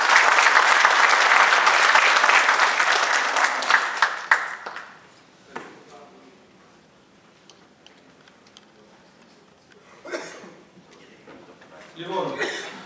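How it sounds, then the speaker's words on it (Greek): Applause at an environmental event on clean seas breaks out loudly and fades within a few seconds, leaving a quiet room with scattered taps, a few claps and a voice near the end. "Ένα χειροκρότημα."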